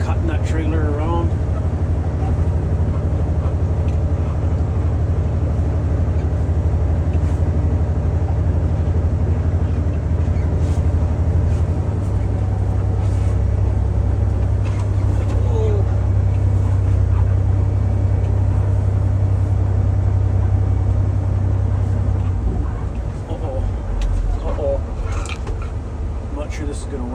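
A truck engine rumbles low and steady while backing a trailer loaded with farm equipment, its constant drone filling the cab and shifting pitch partway through as the rig maneuvers.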